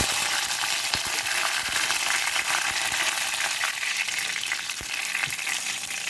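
Curry leaves crackle and sputter in a hot iron pan for Kerala-style buffalo meat fry, a bright, continuous hiss with sharp pops scattered through it, close and fairly loud.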